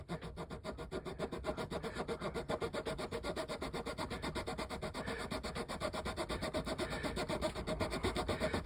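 A small hand saw trims dried glue on a 1:84 Artesania Latina wooden model of the ship Santisima Trinidad, a steady, close, rhythmic rasp of rapid back-and-forth strokes with no voices.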